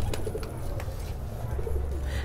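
Soft, low pigeon coos repeat in a steady murmur, close by, with faint chirps and rustling above them.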